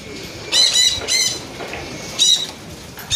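Racing pigeons flapping their wings inside a loft, several short bursts of wingbeats close by, with no talking.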